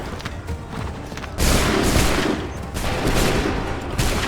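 Soldiers fire a musket volley in Assassin's Creed 3, loud crackling bursts of gunfire landing in three waves, each a dense ragged crash that rolls on for about a second before the next.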